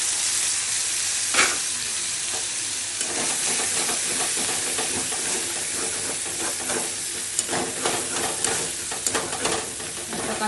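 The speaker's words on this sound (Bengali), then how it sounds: "আদা আর কাঁচা লঙ্কা পেস্ট দিয়ে দিচ্ছি।" Ginger and green chilli paste sizzles in hot oil for a brinjal curry, a steady loud frying hiss with small crackles and pops and occasional stirring scrapes.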